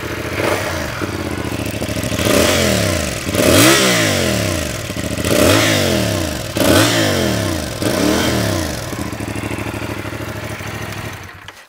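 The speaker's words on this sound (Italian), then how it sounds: "Vi lascio facendovi sentire il rumore di scarico." A CFMOTO 450CL-C motorcycle idles nearby, then its exhaust revs up and falls away in four or five distinct blips, each rising and dropping in pitch over a rough, steady idle.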